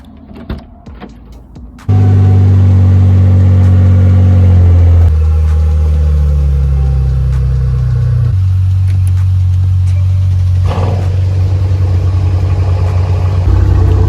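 Car engines start up abruptly and then run loud and steady, shifting pitch a few times as the cars are revved and moved around; no talking.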